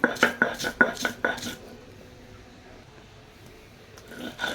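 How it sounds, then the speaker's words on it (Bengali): Onion and salt are crushed on a grinding stone in a quick run of rough, rasping strokes, close by, then a quiet pause before the grinding resumes at the end. "তো লবণ দিয়ে পেঁয়াজটা আমি বেটে নিচ্ছি"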